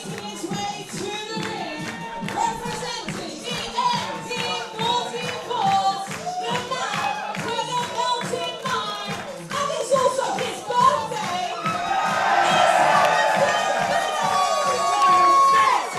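Pro wrestling crowd at an Attack! Pro Wrestling show cheering and chanting for wrestler Harrison Bennett, rhythmic chants and claps building into a louder, sustained roar toward the end.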